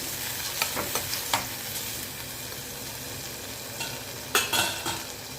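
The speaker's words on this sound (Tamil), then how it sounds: "தக்காளியோட கொஞ்சம் உப்பு சேர்த்து நமக்கு நேரம் சீக்கிரம் வதங்கிடும்" Tomatoes with salt sautéing in a pan, a soft continuous sizzle with occasional scraping stirs and clinks of a spoon, close but fairly quiet.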